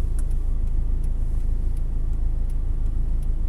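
A car engine idles with the clutch held at its biting point during a driving lesson, giving a close, steady, low rumble with a slight pulsing throb and no talking.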